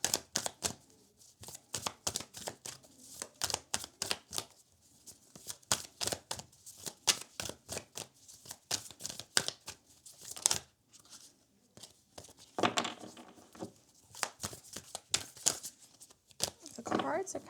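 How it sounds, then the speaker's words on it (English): A deck of cards being shuffled by hand for a pick-a-card reading, the cards sticking together: dense runs of quick papery riffles and flicks, close and fairly loud, with short pauses between bursts. "The cards are kind of sticking together. Let me shuffle a little bit more."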